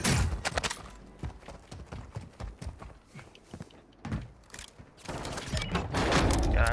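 In the Call of Duty: Modern Warfare II video game, rapid bursts of gunfire crackle with sharp, irregular shots, some in quick fusillades, ending in a denser, louder volley.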